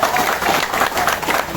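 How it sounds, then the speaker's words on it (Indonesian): Congregation applauding at a church Christmas celebration, a short burst of dense, loud clapping from a gathered crowd that holds steady throughout. "Kurang rame tepuk tangannya."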